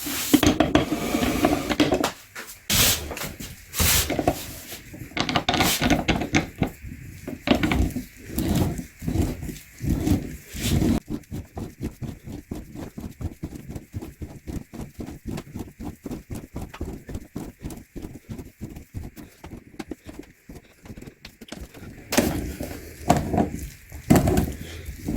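A used Mahle OC323 oil filter is cut open by hand, making a long run of rapid, rhythmic metallic clicks and ratcheting taps close by, with short pauses between bursts.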